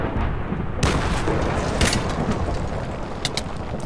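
Sniper rifle shots from a Dragunov in a Minecraft guns minigame, a few sharp cracks standing out over a steady noisy game background.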